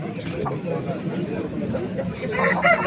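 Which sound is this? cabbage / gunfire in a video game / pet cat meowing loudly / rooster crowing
rooster crowing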